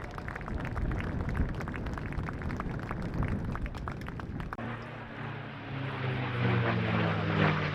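A Boeing B-17 bomber flies past at an airshow, its piston propeller engines droning loudly and steadily as the plane passes, with the pitch and tone shifting partway through as it goes by.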